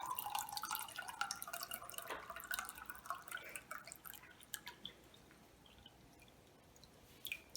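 Filtered water trickling and dripping out, starting as a thin running stream and thinning into scattered close drips, quiet and alone.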